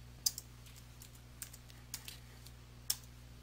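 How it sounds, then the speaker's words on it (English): Sparse keystrokes on a computer keyboard while entering a new section name in OneNote 2016: a few isolated clicks, close and fairly quiet, over a low steady hum. "type a new name and press the Enter key on your keyboard to finish."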